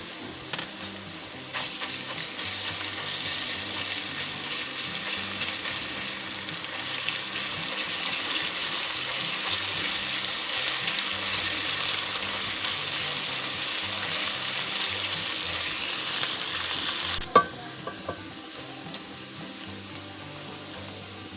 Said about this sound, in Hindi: ये प्याज हमारा गोल्डन हो गया और लहसुन के साथ फ्राई हो गया।